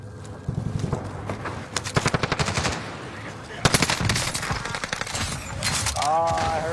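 Rapid automatic gunfire in a shooter video game, bursts of shots in quick rhythm, some sharp and near, with game sounds between volleys and faint voices at moments.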